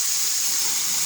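Strong steady rush of water pouring from a kitchen tap in a newly built house, a continuous loud hiss with no pauses.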